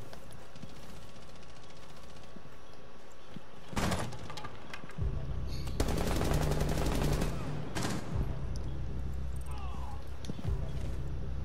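Gunfire in the Rainbow Six Siege video game, with bursts of rapid automatic shots from around four seconds onward, loud and sustained over a constant game background.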